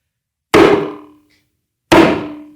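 A cup struck hard in an attempt to break it, two sharp, loud thunking blows about a second and a half apart, each leaving a short ringing decay, with no voices.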